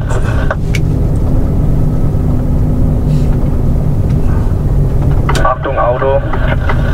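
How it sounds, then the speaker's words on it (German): A car drives past on a road, a steady engine hum that rises as it goes by, with people talking over it. "Achtung, Auto."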